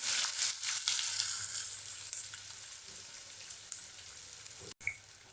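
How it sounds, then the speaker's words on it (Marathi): Finely chopped onion fries with cumin and curry leaves in a pan, a steady crackling sizzle that is strongest at first and gradually eases, ending with a sudden brief cut and a small clink. "कांदा चांगला भाजून घ्यायचा"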